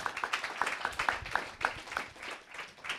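An audience applauding a composer at a film music masterclass on Le Comte de Monte-Cristo, steady moderate clapping from many hands in a room, fairly soft and even throughout.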